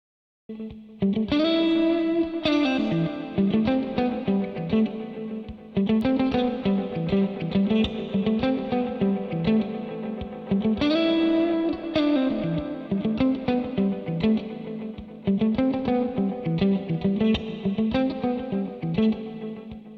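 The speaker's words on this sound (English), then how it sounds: "let's turn the reverb up and bring the delays back a bit" Electric guitar chords through a BOSS RE-202 delay pedal ring out with heavy reverb and echoing delay, a wide washy tail blending strums into a continuous, saturated wall of sound.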